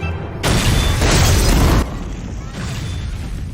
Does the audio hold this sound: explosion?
yes